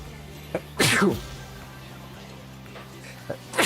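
A single sharp sneeze bursts out close to the microphone, loud and brief against a quiet background hum during a late-night Rocket League game stream, with a couple of small clicks around it.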